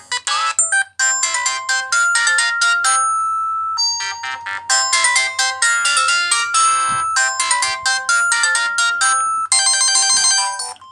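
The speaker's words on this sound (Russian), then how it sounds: "полифонические мелодии 16-тональные" Bright 16-tone polyphonic ringtone melodies from a Samsung SGH-X160 mobile phone play one after another, quick beeping tunes with short pauses between them, loud and close with no talking.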